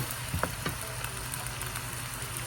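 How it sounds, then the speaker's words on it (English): Brussels sprouts sizzle steadily in butter in a pan, a continuous close frying hiss with a few sharp clicks and pops of the sprouts shifting early on. "Get them on in there, get that butter going on them."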